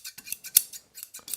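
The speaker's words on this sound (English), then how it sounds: "once you close the scissors" Pair of steel scissors being sharpened, blades snipping shut repeatedly in a quick irregular series of crisp metallic clicks and scrapes, close and fairly loud, with no talking.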